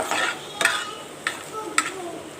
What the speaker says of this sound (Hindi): इसको थोड़ा सा भी फ्राई होने देंगे वेजिटेबल में और कीमे में